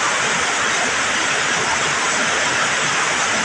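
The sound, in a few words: strong current of floodwater flowing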